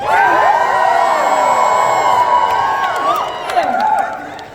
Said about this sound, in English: I need you to scream for a second.